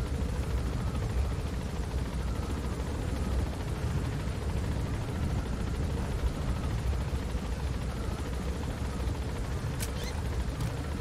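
Helicopter in the video game Metal Gear Solid V, a steady, heavy droning rotor and engine rumble that stays constant and loud throughout, with no speech.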